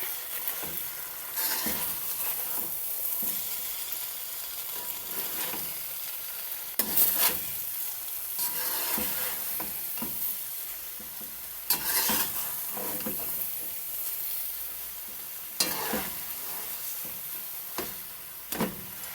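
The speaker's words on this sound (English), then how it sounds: "Now my macaroni is in. Now I'm gonna stir it up." Macaroni and frankfurters being stirred in a pot, Jamaican style, with repeated scraping spoon strokes at an uneven rhythm over a continuous soft bubbling sizzle, close and fairly loud.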